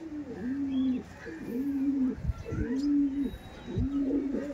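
A pigeon coos repeatedly while being held and handled, its soft rolling calls coming close and clear in a steady rhythm of four or five phrases with light rustling between them.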